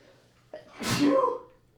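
A single human sneeze: a short sharp intake, then a forceful burst that fades within a second, fairly close against quiet room tone.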